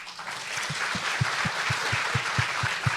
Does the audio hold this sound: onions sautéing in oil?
no